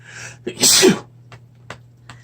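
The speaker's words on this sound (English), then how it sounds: "When I sneeze." A single sharp sneeze close by, over a low steady hum, followed by a few faint clicks.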